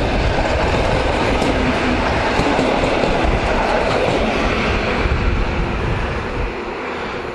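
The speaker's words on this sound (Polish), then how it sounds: "I pociąg jedzie do Lubania Śląskiego." Passenger train bound for Lubań Śląski rolling through Wrocław Żerniki station: a loud, continuous rumble of older carriages with rhythmic clickety-clack of wheels on rail joints and faint squeals, steady throughout and fading slightly at the end.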